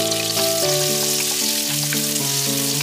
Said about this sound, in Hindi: प्याज को मैंने बढ़िया से फ्राई कर लिया है